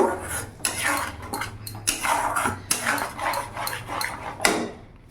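A spoon or spatula scrapes and knocks against a pan while tomato, onion and whole spices are stirred, producing irregular metallic clatters and scraping strokes over a faint low background hum.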